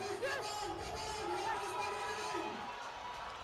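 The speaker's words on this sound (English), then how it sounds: "Crowd getting heavily involved." Large rugby crowd at Boland Stadium roaring and whooping in a steady, distant swell of cheers, heard beneath an excited commentator's voice.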